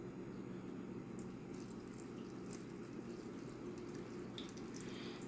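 Liquid being poured into a small canning jar in a home kitchen, a steady close trickle running throughout with faint splashy ticks on top.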